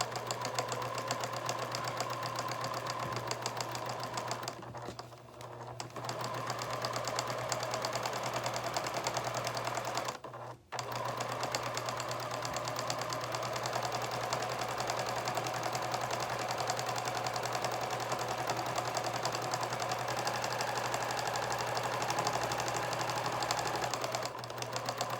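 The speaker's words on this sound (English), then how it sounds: "I'm just going to sew right on the edge of the satin" A sewing machine stitching along the satin edge of a baby blanket, running steadily and closely with a fast mechanical whir, pausing briefly twice before carrying on.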